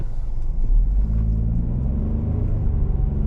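Inside a moving 2025 Ford Escape ST-Line with the 1.5-litre turbocharged three-cylinder, a steady loud low engine and road rumble fills the cabin continuously, with no talking.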